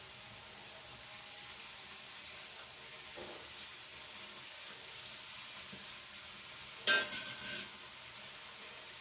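Eggplant curry simmers and sizzles softly after fenugreek leaves go in, a faint steady hiss with light stirring and one brief utensil clank near the end.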